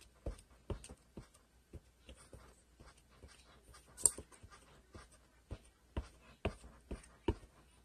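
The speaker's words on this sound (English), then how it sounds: "I have an orange ink pad, and I'm going to put the ink on here." Soft repeated tapping and dabbing of an orange ink pad onto a homemade stamp, irregular light knocks close by, with faint panting from a dog in the background.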